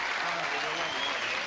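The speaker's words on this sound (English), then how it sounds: "Give him a big round of applause." Studio audience applause for a comedian, a full, even roar of clapping with a voice faintly present underneath.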